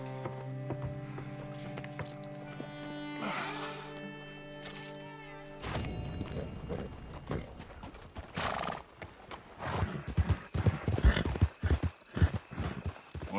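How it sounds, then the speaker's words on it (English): Horse hooves clip-clop in Red Dead Redemption 2, starting with a neigh and jangling tack over musical tones, then a faster run of sharp hoof beats and clinks that grow louder and more irregular. "Horse is looking good."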